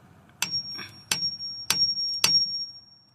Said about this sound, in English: when you tie it properly over here, then you tap with the hammer